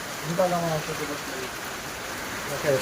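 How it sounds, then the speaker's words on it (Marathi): Steady, heavy rain hisses throughout, with a person speaking briefly over it near the start and end; hail fell earlier. "सगळा पाऊस चालूच आहे"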